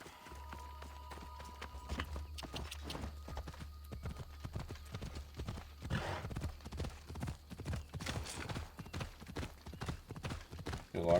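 Hooves of a horse in Assassin's Creed Odyssey clip-clop in a quick steady rhythm, close and continuous, over a low droning game ambience, with no speech.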